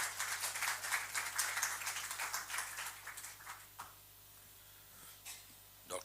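Audience at a book launch applauding, a dense patter of claps that fills the first few seconds and then thins into scattered claps over room murmur.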